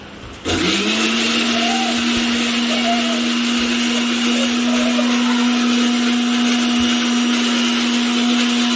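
An electric mixer grinder grinding salt starts abruptly and settles into a loud, steady high-pitched motor whine with a constant tone that runs without a break to the end, and no one talks over it.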